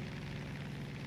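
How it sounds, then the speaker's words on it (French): A helicopter in the video game Far Cry 5 gives a steady, faint rotor and engine drone that holds evenly throughout without speech. "Ah non, c'est un hélicoptère."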